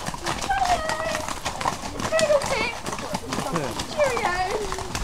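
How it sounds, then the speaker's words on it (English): A pony's hooves clip-clop at a bloodhound hunt meet, with a horse whinny and lively voices talking around it outdoors. "Here comes my pony."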